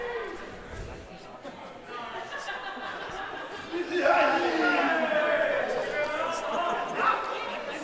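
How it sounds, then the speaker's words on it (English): A live crowd at a Cambridge wrestling event chattering and cheering, a dense murmur of voices that swells into louder shouts partway through, with speech mixed in. "Our Cambridge crowd getting involved here today at DOA."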